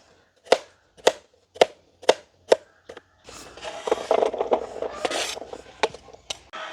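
A knife chops carrots on a board while village cooking outdoors: six crisp, evenly spaced knocks, then a busier stretch of faster scraping cuts and rustling, close and distinct.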